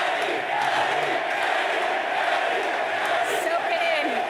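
A large esports arena crowd cheers at the LCS Spring Split lower bracket finals, Evil Geniuses versus Team Liquid, a steady, dense roar of many voices that holds loud and unbroken throughout.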